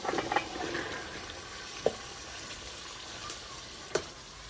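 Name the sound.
potatoes and peas added to frying masala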